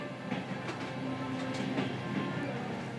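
An aging Mongolian passenger train rolls along decades-old railway track, its wheels clacking rhythmically over a low, steady rumble, heard from on board at moderate level.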